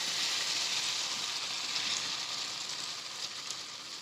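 Fried potatoes and eggs sizzle in hot masala in a pan, a steady, bright crackling hiss that carries on without a break, close and clear with no talking.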